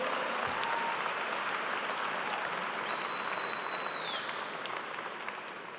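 An audience at an engineering college's spring commencement applauds the graduates, a broad, sustained wash of many hands clapping from a large crowd, steady and slowly tapering, with no talking.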